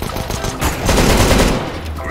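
Rapid pistol gunfire from a CS:GO match comes as a dense burst of close, loud shots that blur together over about two seconds.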